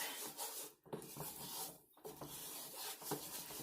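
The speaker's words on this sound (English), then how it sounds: "As it starts thickening, stir even faster." A spoon stirs homemade clay mixture in a pot as it thickens, a close, continuous scraping and rubbing with short pauses between quick strokes, soft and steady.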